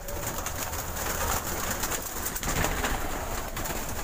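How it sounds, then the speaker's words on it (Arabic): Pigeons cooing in a home loft, a steady chorus of soft, overlapping coos and bird calls that runs throughout at moderate loudness, with no talking. "واوريكم الحمام بتاعي كمان اهو"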